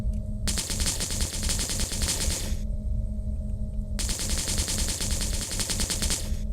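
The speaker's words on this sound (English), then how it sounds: "I think I can shoot at the tank." Rapid automatic gunfire aimed at a tank in the video game Project Frontier comes in two long, loud bursts separated by a short pause. Each burst is a dense rattle of shots, with no talking.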